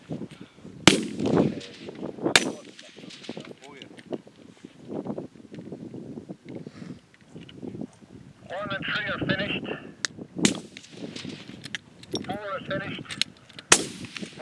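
Sporting rifle shots ring out at an outdoor shooting match, sharp loud cracks spaced several seconds apart over wind noise, with people talking in between.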